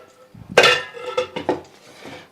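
A metal kadhai on a gas stove is handled with a spoon while a spoonful of desi ghee goes in to make barfi, producing several close, sharp metallic clanks and scrapes in a short, uneven burst.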